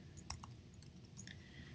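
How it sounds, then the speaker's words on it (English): A few quiet, scattered keystrokes on a computer keyboard, sounding as short, dry clicks spaced irregularly over a faint background hiss. "Let me type Jessica."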